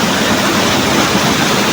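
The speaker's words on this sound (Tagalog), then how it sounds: "Lakas ng ulan guys." A heavy downpour falls on a busy town street, producing a dense, unbroken, loud rushing hiss.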